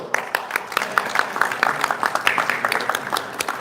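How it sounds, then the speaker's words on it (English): An audience at a state fair homebrew awards ceremony applauds for a winner, giving a steady patter of many hands clapping at moderate distance that holds evenly for the whole stretch. "But a round of applause for Bill."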